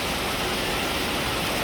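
Heavy rain pours down steadily as a dense, even hiss of loud broadband noise with no breaks and no voices.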